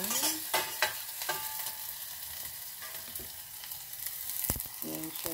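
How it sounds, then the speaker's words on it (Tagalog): Garlic sizzles and crackles in a hot frying pan as it is sautéed, with bright steady frying noise and repeated sharp scrapes and clinks of a utensil stirring against the pan. "ginagisa na po ang bawang"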